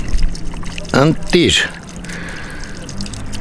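Water runs from a public drinking fountain in Kanaker, Yerevan, a steady trickle and pour close by, with people talking over it.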